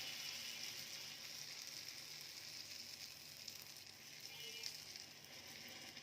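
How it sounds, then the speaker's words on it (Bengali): Pakan pitha, a Bengali fried rice cake, fries in very hot oil, giving a continuous soft bubbling sizzle that stays even throughout, quiet and close, with no talking. "তেলটা গরম হয়ে গেছে, পিঠাটা দিয়ে দিলাম।"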